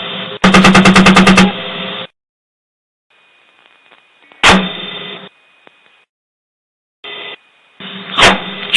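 An Apache attack helicopter's cannon fires in combat, a loud rapid burst followed by shorter single blasts, heard through a filtered radio-like cockpit channel with long quiet gaps between shots.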